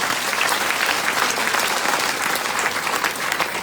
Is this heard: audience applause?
yes